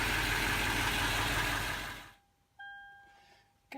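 A Toyota Land Cruiser 200 Series engine idles with a steady low rumble that fades out as it shuts off, followed by a clear electronic chime tone.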